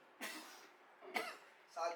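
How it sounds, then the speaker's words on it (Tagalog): Three separate coughs come close to the microphone, each short and raspy, spaced about a second apart, with some vocal tone in the last one. "Sagutan ng ubo."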